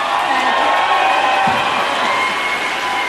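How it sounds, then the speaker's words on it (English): A large convention audience claps and cheers in a hall, a steady dense wash of applause with scattered whoops that holds at a constant level for the whole three seconds. "I don't know why you're clapping."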